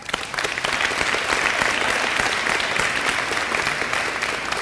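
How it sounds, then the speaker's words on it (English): An audience applauds an award winner at a spring sports awards ceremony, with steady, dense clapping that holds at full strength for the whole stretch and no voices over it. "Don't clap too much."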